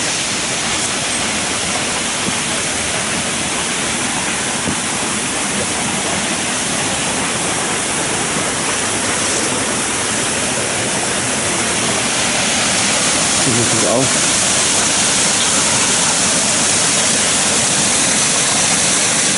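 Rushing water pours steadily and loudly near the spring of the Río Majaceite in Andalusia, a dense unbroken roar close by for the whole stretch.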